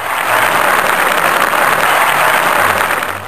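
A studio audience applauds a metal-themed guest on a comedy talk show, a thick, sustained wash of clapping that holds loud and even before tapering at the end.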